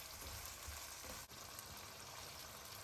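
Crispy fish tossed in tamarind sauce over medium heat, giving a steady, close frying sizzle with a faint crackle throughout and one brief dip midway.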